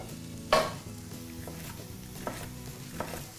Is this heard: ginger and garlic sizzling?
yes